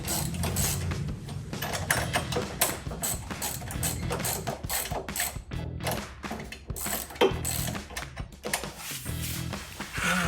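A hand ratchet snugs bolts on Defender drop side step bars for a Jeep Gladiator JT, making continuous close clicking and ratcheting with creaky mechanical rattles throughout, loud and without talk.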